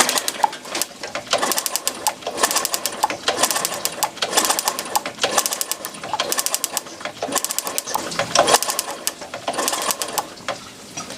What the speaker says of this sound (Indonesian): Coba saya engkol dulu ya.